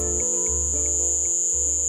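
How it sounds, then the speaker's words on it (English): Crickets chirp in a steady, shrill, high-pitched drone with faint rhythmic pulses, over a low hum and with no voices, heard in the context of the Havana Syndrome sound reports. "Crickets."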